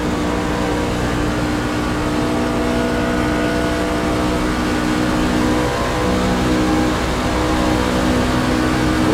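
Race trucks at Talladega roar past in a steady, loud mass of engine noise, sustained and close with no gaps or talk.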